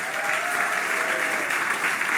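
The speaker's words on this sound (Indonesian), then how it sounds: "Tepuk tangannya kok begitu?" Congregation clapping during a church worship service at GBI Pantai Permata in Batam, a sustained dense round of applause from many hands, steady and fairly loud with no pause.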